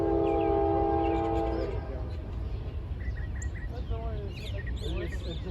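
A train horn sounds loud and sustained along Central Ohio rail lines near a club, then cuts off, leaving rumbling rail noise and scattered birdsong on a hot day.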